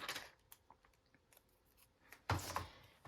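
Scissors trimming the paper edges of a junk journal pocket, a few faint snips early on, then a louder, closer burst of cutting near the end, with no talk.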